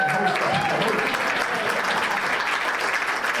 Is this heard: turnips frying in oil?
no